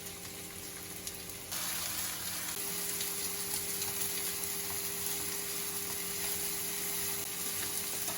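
Enoki mushrooms, already deep-fried, laid in a pan with a little oil and pan-fried, giving a steady, fairly quiet sizzle that fizzes without pause and thickens after the first second and a half.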